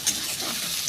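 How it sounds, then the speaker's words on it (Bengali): Mustard-paste spice mix being briefly sautéed and stirred in a pan while cooking a whole shol fish with dried mango, a soft continuous sizzle with a faint scrape of the spoon, close and short. "এইবার ভালো করে একটু মশলাটা কষিয়ে নেব।"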